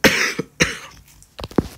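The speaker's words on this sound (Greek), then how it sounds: "Βήχω λίγο." Several dry coughs from one nearby person, in two quick bursts followed by a cluster of short harsh hacks and throat clearing, with no talking.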